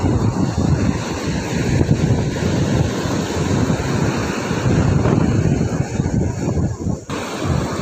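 Ocean surf rolls in continuously on Nagapattinam beach, a dense, steady roar of breaking waves mixed with heavy wind buffeting the microphone, loud and unbroken throughout.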